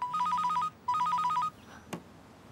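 A telephone rings twice in a bright electronic warble, each ring lasting under a second with a short pause between, followed by a sharp click as the handset is picked up. The setting is a French TV drama scene.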